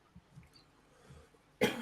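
After a near-silent pause with faint rustles, a single sharp, loud cough bursts out close to the microphone at the end.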